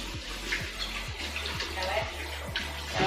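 Hands are washed under a running kitchen tap while cilantro lime rice is being made, giving a steady close rush of water with soft splashing and muffled voices nearby.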